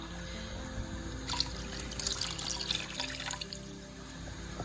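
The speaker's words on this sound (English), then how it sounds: "we're gonna go ahead and add in 4 cups of water to 4 cups of rice." Water pours and trickles steadily into a pot of rice, a soft splashing stream that swells in the middle and continues without voices.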